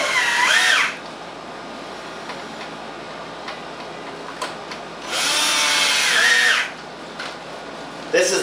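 Ozone generator with a 1.5 horsepower blower running, a steady loud whooshing drone with two bursts of harsher, higher whine at the start and again midway, close to the listener.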